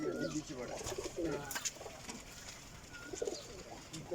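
Breeder pigeons coo from a coop in Jhelum, low soft bursts repeating every second or so beneath faint background chatter and a few brief chirps.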